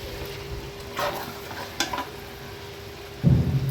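Pudina chicken fry curry being stirred in a pan, with a couple of soft scraping strokes over a low simmering bubble and a louder clattering stir near the end.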